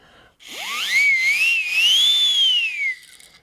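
A single long whistle from a toy aeroplane rises sharply, then wavers up and down in pitch over a breathy hiss, like a small jet engine, fading out at the end.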